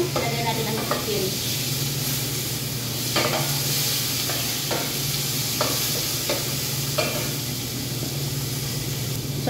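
Tomato, onion and garlic sauté in a hot pan with chicken, giving a steady close sizzle and hiss throughout, broken by several sharp spatula scrapes and stirring knocks spaced a second or so apart.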